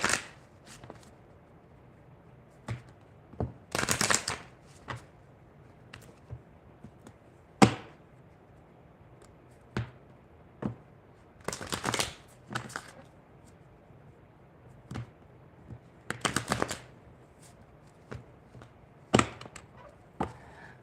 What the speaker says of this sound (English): Let me just do a quick shuffle here